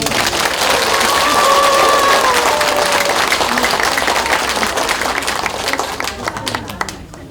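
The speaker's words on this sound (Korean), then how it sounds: "박수." Sustained applause from a church congregation at a Catholic Mass, dense clapping at steady loudness that thins and fades toward the end, with a faint voice or two beneath.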